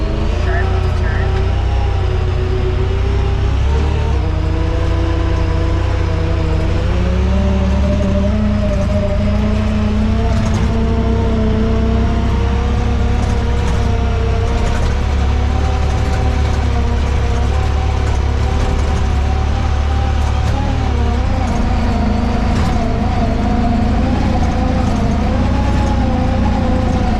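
A 2022 Honda Pioneer 1000 Trail Edition side-by-side driven in two-wheel drive through snow: a loud, steady engine drone runs without pause from start to finish, rising and falling only slightly in pitch.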